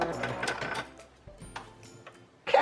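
A sewing machine back stitches a fabric face mask in brief whirring bursts with mechanical ticking. It pauses, then starts up again at the end.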